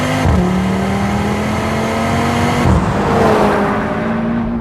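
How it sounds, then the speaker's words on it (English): A five-cylinder car engine making over 400 horsepower revs hard and loud, pitch climbing through gear changes with a brief dip near three seconds, sustained and close with no voices. "the 5-cylinder engine that puts out over 400 horsepower and sounds brilliant"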